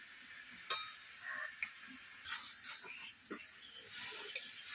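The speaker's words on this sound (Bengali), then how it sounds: "এরপরে কিন্তু অনবরত নেড়ে চেড়ে একটু টান টান করে ভেজে নিতে হবে তো আমি ভেজে নিচ্ছি" Bottle gourd leaf paste fries in a pan with a soft, steady sizzle, broken by occasional scrape-and-stir clicks of a spatula; the cooking noise is fairly quiet and close.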